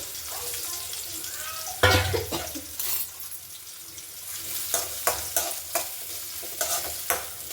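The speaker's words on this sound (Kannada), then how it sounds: "ಇದು ಫ್ರೈ ಆಗಲಿ, ಸ್ವಲ್ಪ ಕೆಂಪು ಕಲರ್ ಆಗಲಿ, ಗೋಲ್ಡನ್ ಕಲರು" Onions, curry leaves and green chillies fry in a pan, a steady sizzle broken by repeated loud scrapes and clatters of a spoon stirring against the metal, close up.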